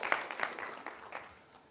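A science lecture audience gives an assistant a short burst of applause. The claps are distinct and fairly quiet and taper off within two seconds.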